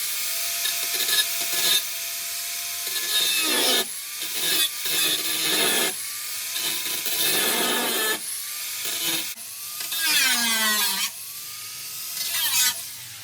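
Power tool cutting through metal, rough off the centre of a roll, in repeated loud bursts of harsh, screeching grinding, each a second or two long, separated by brief pauses, with pitch shifting as the blade bites.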